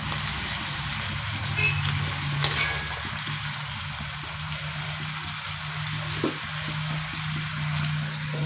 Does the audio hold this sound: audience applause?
no